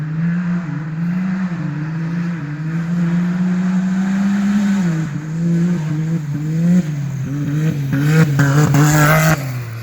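A car with its catalytic converter deleted and an electronic dump valve open roars loudly, engine droning and then revving up and down in swells, with a sharper, raspier burst of throttle near the end.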